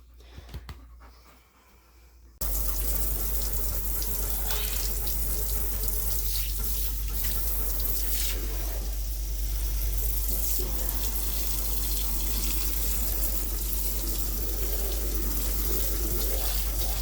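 Tap water runs steadily and loudly through a grooming tub as a cream retriever is bathed with shampoo and conditioner, a continuous rushing stream after a brief quieter start, with faint panting or splashing mixed in.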